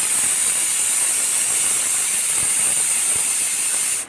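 A pressure cooker cooking rice lets off its whistle, a loud, sustained steamy hiss with a high shrill edge, steady for about four seconds before cutting off abruptly.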